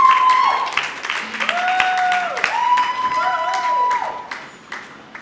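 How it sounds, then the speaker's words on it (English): An audience at a teen innovators' challenge event applauds a presenter walking up to pitch her waste management initiative: steady clapping from many hands, with bright sliding musical tones layered over it. "Let's clap for her, she comes to the front."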